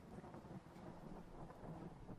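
Steady rain pours with low rolling thunder rumbling beneath it, a faint, continuous storm ambience with no voices.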